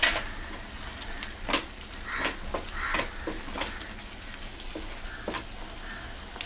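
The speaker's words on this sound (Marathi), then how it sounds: "5-6 मिनटं चांगली ही परतायची आहे" Prawn biryani masala sautéing in a pan, with a constant close sizzle broken by repeated scraping strokes of a spoon as it is stirred.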